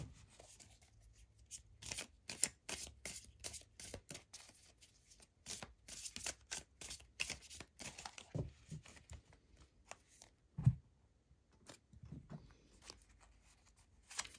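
Tarot cards are shuffled and drawn by hand in a quiet room, making rapid, papery riffles and flicks in uneven bursts, with a few soft taps between them.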